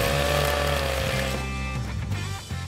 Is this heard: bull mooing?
no